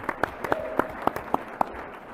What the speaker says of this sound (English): a big round of applause for Mayor Giuliani